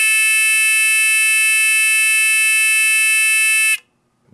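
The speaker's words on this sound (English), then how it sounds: "the buzzer's working and the LED's working" Loud, steady electronic buzzer on a Titan II missile silo blast door control panel timer, one continuous harsh tone held for nearly four seconds before cutting off abruptly into near silence.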